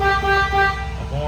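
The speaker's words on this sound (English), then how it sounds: "Horn works." Horn of a 1953 Pontiac Chieftain hardtop, straight eight, sounds in two or three loud, harmonic toots close by, with a voice briefly audible at the end.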